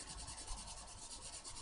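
Steady scratchy rubbing of an old marker tip scrubbing back and forth across art journal paper, close and continuous, with no voices.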